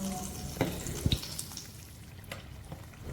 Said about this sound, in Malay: Goreng hinggalah warna coklat keperangan sedikit ya.